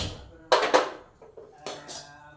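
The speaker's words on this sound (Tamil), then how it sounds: "வானலை அடுப்பில் வச்சுக்கலாம்" A couple of sharp metallic clanks as a wok is set down on a stovetop, followed by a quieter knock and another clank, close by.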